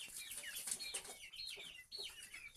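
Spotted hen clucking with short bird calls and faint rustling, fairly close, with no talk.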